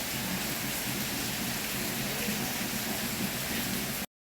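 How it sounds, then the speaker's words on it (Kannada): Steady rain falls for about four seconds, an even, dense hiss of drops at moderate level with no voices, cutting off abruptly at the end. "ಮಳೆ ಬರ್ತಾ ಉಂಟು ನೋಡಿ, ಬೇಕಾದ್ರೆ ನಾನು ಸುಳ್ಳು ಹೇಳ್ತಾ ಇಲ್ಲ"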